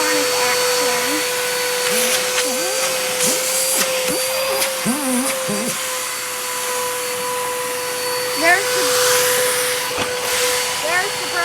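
Cyclonic vacuum cleaner running continuously, a loud steady motor whine and rushing suction with a sustained tone, shifting slightly as it is moved, heard close up throughout.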